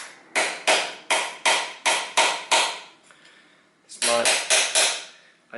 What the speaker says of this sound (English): I am hitting this my screwdriver